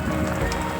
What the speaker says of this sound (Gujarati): વરસાદ બહુ છે.